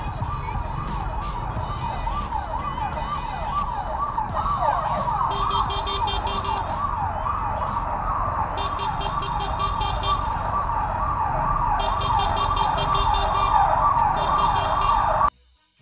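An ambulance siren wails continuously on a road during a daily commute, a loud cycling sweep with a second tone layered in at times, holding steady for the whole stretch over traffic rumble before cutting off abruptly at the end.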